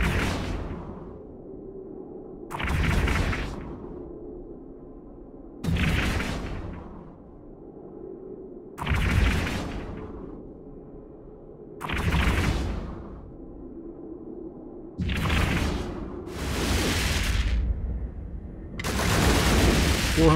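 A 150mm railgun turret in the EVE Online game fires repeatedly, each shot a sharp, bright crack with a booming tail, about eight in a spaced rhythm, the last few coming closer together.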